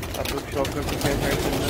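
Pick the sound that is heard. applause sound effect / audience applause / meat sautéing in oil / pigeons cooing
pigeons cooing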